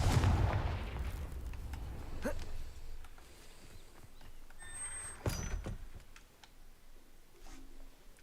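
A Confringo blasting spell fires in Hogwarts Legacy, opening with a loud, rumbling blast that fades over a few seconds, followed by scattered sharp cracks and thuds at moderate level.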